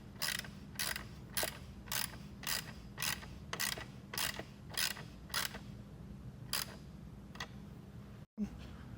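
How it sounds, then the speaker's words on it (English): A socket wrench ratchets on a car battery terminal of a 2017 Chevy Malibu, making about a dozen quick clicking bursts in a steady rhythm. The clicks are close and moderately loud over a low hum, and there is a short pause near the end. "I'm going to use the socket. We don't want to strip that terminal out."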